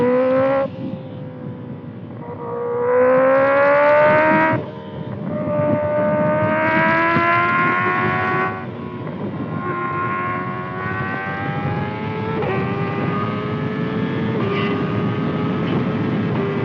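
A Kawasaki ZX6R fitted with a Voodoo Racing slip-on exhaust revs repeatedly, its engine note climbing in rising sweeps and holding at high pitch, loud and close with no talking.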